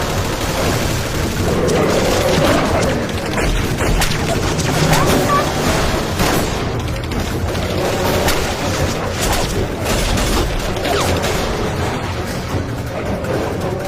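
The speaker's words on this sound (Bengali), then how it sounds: "আমরা সবাই একসঙ্গে ফায়ার করব। ফায়ার!" Volleys of gunfire ring out in a werewolf horror battle, dense bursts of shots and booms filling the scene loudly and continuously, with shouted voices mixed into the chaos.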